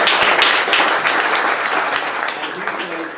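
Audience applause at a public discussion event, a loud, dense burst of clapping that gradually tapers, with some voices mixed in beneath it.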